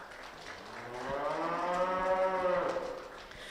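A mature beef cow at a provincial cattle show in Stettler, Alberta gives one long, rising and falling moo, fairly close over a quiet arena background.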